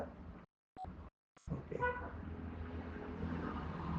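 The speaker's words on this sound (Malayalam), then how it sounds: "എൻ്റെ ഷോപ്പിൻ്റെ പുറത്തുകൂടി വണ്ടികൾ എപ്പോഴും പൊക്കൊണ്ടിരിക്കുന്നതുകൊണ്ട് എപ്പോഴും വണ്ടികളുടെ ബഹളം ഹോണടിയും" Vehicle horns honking from road traffic passing outside a shop, a few short toots after brief gaps, mid-distance over a steady hum of traffic noise.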